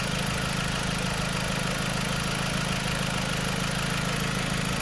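A used car imported from the USA idles steadily at a service station with a constant low hum and a faint mechanical rattle, close by and unchanging throughout.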